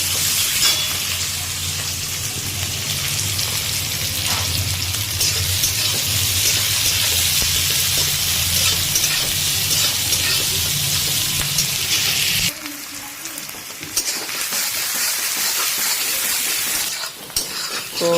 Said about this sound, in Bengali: তো দেখুন এখানে পেঁয়াজটা কিন্তু ভাজা চলছে।